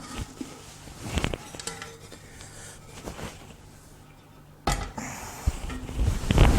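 A Panasonic bread maker pan shaken to loosen a baked loaf, giving a few brief metallic rattles and knocks at close range with quiet gaps between, then a louder clattering burst near the end.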